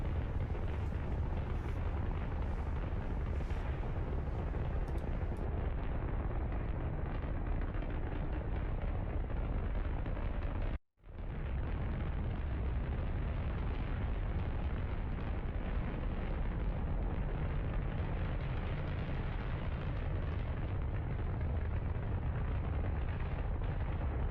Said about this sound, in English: This main stage of the Mule booster still ascending. Now without the solid rocket boosters.